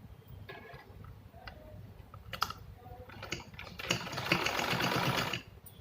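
A sewing machine stitches a strip onto a fabric organizer made from scrap cloth, with a few scattered ticks and clicks before a sustained, fairly loud whirring run of stitching that stops abruptly.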